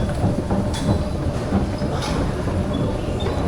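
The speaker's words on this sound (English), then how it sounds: "This is looks like an older subway." An older subway train runs with a loud, steady rumble and clattering wheels, a continuous mechanical roar filling the whole stretch with no voices.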